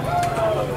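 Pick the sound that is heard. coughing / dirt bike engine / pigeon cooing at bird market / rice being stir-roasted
pigeon cooing at bird market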